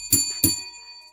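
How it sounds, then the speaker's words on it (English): Two quick bell rings close together, each a bright metallic strike with a ringing sustained tone that fades out, alone with no voices. "Let's ring the bell for that."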